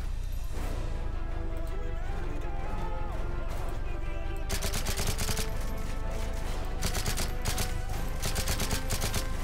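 Rapid bursts of automatic gunfire and scattered shots fill a Modern Warfare 3 match, dense and loud over a constant game background, with firing growing heavier partway through.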